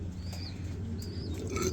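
A prize-winning racing pigeon, a 1200 km race winner, coos in soft low repeated murmurs, close by, over a steady low background hum with faint higher chirps.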